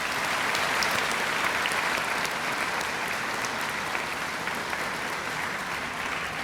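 Graduation audience applauding, a dense, even wash of clapping from a large crowd that stays steady and loud throughout, with no voices breaking through.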